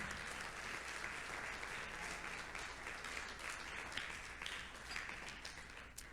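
A congregation at a Sunday church service applauds in a continuous, even roar of clapping, distant and fairly quiet, holding steady for the whole stretch with no voice standing out.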